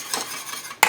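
A whisk or spoon clinks once against a pot of simmering passion fruit milk mixture, a single sharp metallic tap after a soft bubbling hush.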